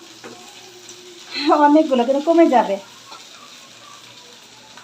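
Chopped okra hitting oil in a wok and frying, a loud burst of sizzling and crackling lasting over a second, with someone speaking nearby.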